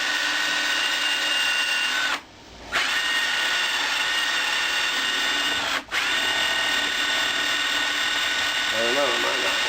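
A power drill whines steadily at high speed into a stuck metal blade adapter nut on a Troy-Bilt mower, cutting out briefly twice before spinning up again, loud and close.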